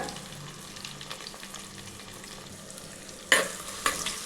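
Onions fry in a pan for mutton curry, a soft steady sizzle with faint stirring scrapes, then two louder sharp clatters near the end, close by and without any talking.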